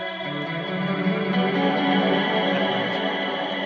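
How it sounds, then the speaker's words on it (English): A distorted electric guitar with overdrive, reverb and delay rings out sustained chords, washed in echo, loud and continuous with no voices. "You're going to go from this kind of overdriven, reverby, delay tone into playing chords."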